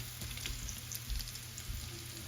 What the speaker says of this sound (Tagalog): Ngayon igisa ko na siya. Lagyan ko na itong bawang.